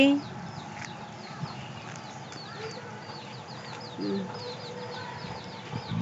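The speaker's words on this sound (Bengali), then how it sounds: "এই যে মুরগি" Chickens cluck softly among farm animals, with small repeated clucks and chirps scattered over a low outdoor murmur while someone talks nearby.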